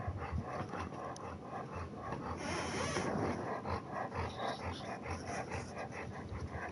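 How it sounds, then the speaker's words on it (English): A dog breathes and pants steadily close to the microphone, a continuous rhythmic huffing with occasional soft whimpers and no talk. "Can you hear my dog breathe?"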